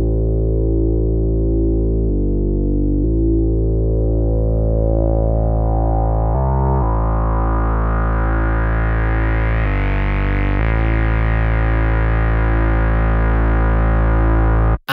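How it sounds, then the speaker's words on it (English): A Mercury-6 synthesizer bass for a quiet song section, a sustained, buzzy low tone with brief note changes, its brightness slowly opening up as the filter cutoff and resonance sweep, steady and loud throughout. "Then we have a bass for a more quiet part."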